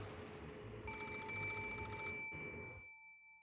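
A telephone bell in a room from a visual-novel game bursts into a loud, piercing metallic ring, holds for over a second, then fades with a short ringing tail.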